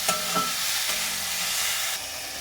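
Vegetables fry lightly in a pan, giving a soft, steady sizzle and hiss with a couple of faint stirring clinks near the start, quiet and close with no voices.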